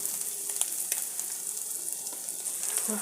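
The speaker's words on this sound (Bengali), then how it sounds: "মুচমুচে করে ভেজে নেব তো এই মলা মাছের মাথা" Mola fish heads fry in hot oil with a steady, close crackling sizzle and scattered sharp pops, moderately quiet and without any talking.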